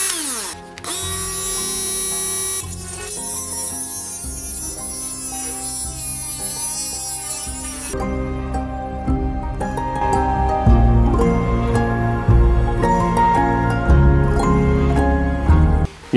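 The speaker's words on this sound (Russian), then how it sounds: "Еще один диск, я надеюсь, еще сейчас отрежу." A cordless Dnipro-M rotary engraver fitted with a cutting disc whines loudly and steadily, its pitch shifting as the disc bites into the material and cuts through.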